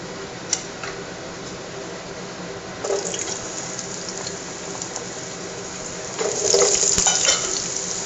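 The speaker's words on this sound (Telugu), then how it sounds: "ఓన్లీ ఫ్రై అన్నమాట, ఆయిల్తోనే." Potato pieces fry in oil in a pan, a steady soft sizzle with occasional stirring clatter, growing louder toward the end.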